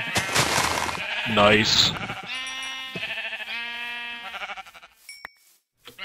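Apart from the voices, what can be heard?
sheep bleating in Minecraft video game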